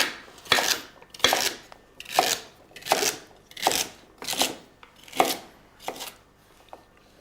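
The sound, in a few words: chopping celery into large pieces with a knife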